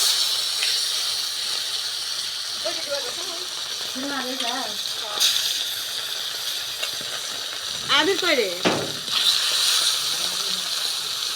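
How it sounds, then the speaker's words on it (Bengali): Fish sizzles and hisses in hot oil in a kadai, a steady close frying hiss that runs throughout while a voice speaks intermittently over it. "এখন অপর পাশেও ভেজে নেওয়া হচ্ছে।"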